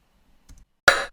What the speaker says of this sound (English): here's another sound that I thought that could be nice for a snare.